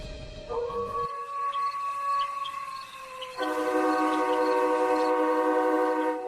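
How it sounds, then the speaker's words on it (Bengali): A train horn blows long sustained tones, growing louder and richer partway through as the train draws closer, with rumbling rail noise beneath. "ট্রেনের আওয়াজ পাওয়া যাচ্ছে।"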